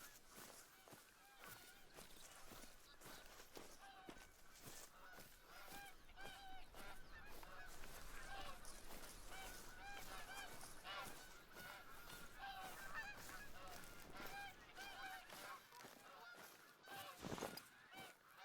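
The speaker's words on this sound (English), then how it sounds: "you're going to have to put up with the bloody geese noises" Flocks of geese honk steadily and overlap throughout in the TruHunt hunting game on the Hirschfelden map, a busy, continuous chorus with faint footstep-like sounds mixed in.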